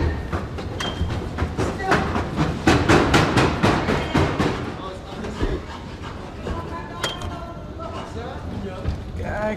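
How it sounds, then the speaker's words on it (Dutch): Metro train passing close by, a run of rhythmic rail-joint clacks and thumps building loudly then fading into a broad rumble, with a voice calling out over it. "Metro!"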